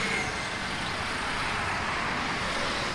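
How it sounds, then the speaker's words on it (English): Road traffic in Agra, India, near the fort: a steady, fairly loud roar of passing cars, trucks and buses with no pause across the stretch. "people beeping horns, but it's not crazy traffic like in some cities."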